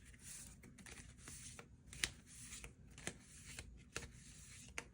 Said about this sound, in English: Let's do a clarification pile, or clarification draw with the Golden Art Nouveau tarot card deck.